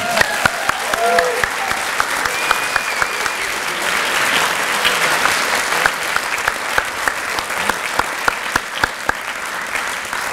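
An audience at an award ceremony applauds for a recent middle school graduate, a loud sustained burst of clapping with a few voices mixed in.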